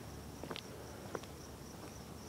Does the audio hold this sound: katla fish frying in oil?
no